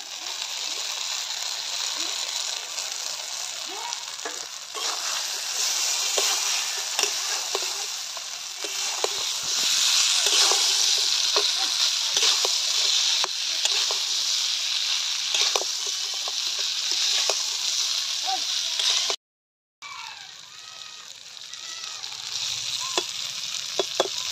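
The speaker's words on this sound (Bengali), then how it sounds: "এবার দিয়ে দিলাম ভেজে রাখা শিমগুলো" Fried flat beans go into a pan with spices and are stirred, giving a loud, steady sizzle with scraping stirs and clicks, a brief silent gap, then more sizzling.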